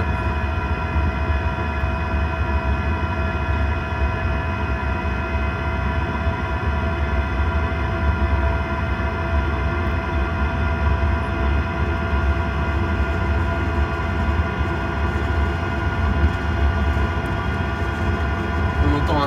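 A Chinese Webasto-type diesel parking heater running: a steady mechanical drone with a constant low rumble and sustained whine, unchanging throughout, close by and moderately loud.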